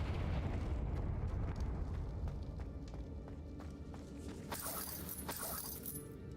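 In the video game Hogwarts Legacy, a Confringo spell explosion gives a loud, dense rumbling burst and a bright crackling, shattering rush toward the end, with no talking.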